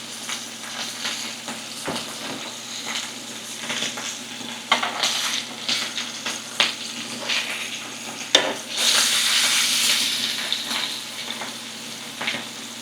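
Reverse-seared steak sizzles and fries in a pan, a steady close crackling hiss with occasional stirring scrapes, swelling into a louder, brighter sizzle near the end, with no one talking.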